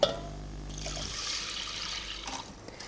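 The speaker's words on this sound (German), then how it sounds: "wir löschen das jetzt mit Wasser ab" Water poured from a vessel into a pan of sautéed, glassy rice, a near, steady splashing pour lasting a couple of seconds before trailing off.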